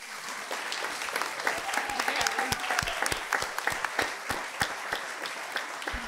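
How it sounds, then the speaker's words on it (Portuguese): A crowd at a seniors' Carnival celebration in Portugal gives a round of applause, many hands clapping in a lively, continuous patter with some louder claps and a faint murmur of voices beneath. "uma salva de palmas para ela"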